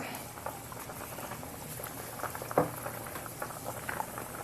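Pandugappa fish curry broth boiling in a pot, a soft continuous bubbling and popping patter, close but quiet, with an occasional slightly louder pop.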